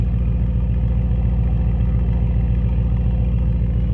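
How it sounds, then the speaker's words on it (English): A 2024 Mercedes-AMG S63 sits at idle, its engine holding a steady, even low rumble with a fine rhythmic pulse, close and continuous with no revving or talk. "Let's take a listen to the idle."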